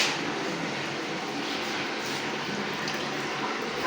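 Water poured into a pan of mashed garlic and green chillies during home cooking gives a steady, even rushing hiss that runs for about four seconds, close by and unbroken, with no talking over it.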